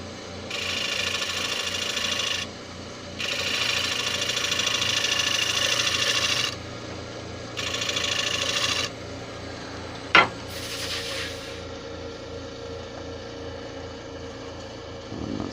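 Finish cut on a Spanish chestnut bowl turning on a wood lathe: a gouge rasps against the spinning wood in several close bursts of scraping noise, followed by a sharp knock and quieter rubbing.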